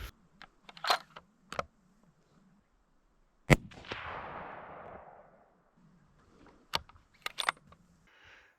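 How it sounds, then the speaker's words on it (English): Hunting rifle test shots fired outdoors while deer hunting in New Zealand: one sharp, loud report followed by a long fading echo, with scattered clicks and handling knocks from the rifle before and after it. "Just put a couple of shots through the rifle, just make sure that it's shooting straight"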